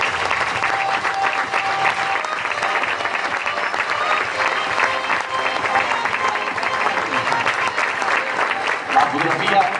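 Loud, steady applause from a crowd gathered for a youth football club's season presentation, sustained throughout with a murmur of voices mixed in.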